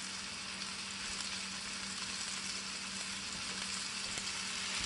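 Chuck roast browning in oil in a non-stick pan, a steady close sizzle and fry with a faint low hum underneath, continuous and even throughout with no talking.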